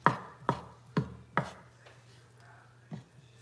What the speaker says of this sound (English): Chopping up the dog's chicken.